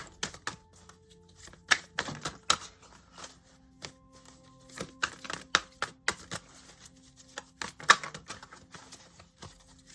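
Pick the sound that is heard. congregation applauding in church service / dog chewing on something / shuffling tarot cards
shuffling tarot cards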